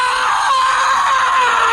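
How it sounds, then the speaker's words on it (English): A man screams horribly in a film, one long, loud, sustained anguished wail with a strained, wavering pitch that carries without a break. "And he screams the whole fucking time, like a horrible scream."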